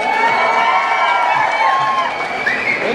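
An audience cheers and shouts loudly for a singer as his song is released on stage at an event for the Kannada film BRAT. A dense, continuous crowd roar with whoops runs throughout, and no one speaks over it.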